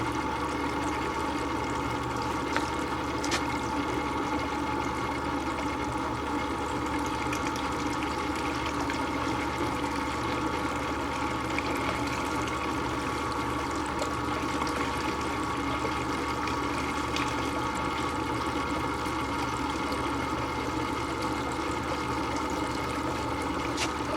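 Running water washes fine flour-gold concentrate into a pan. A steady, continuous pour and trickle rushes on evenly throughout at close range.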